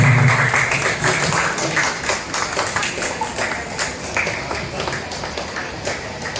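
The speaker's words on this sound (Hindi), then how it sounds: "तालियों में कमी नहीं होनी चाहिए।" Applause greeting a guest at an alumni gathering held at a medical college, a crowd clapping steadily and fairly loud, with a brief voice at the very start and the clapping tapering slightly toward the end.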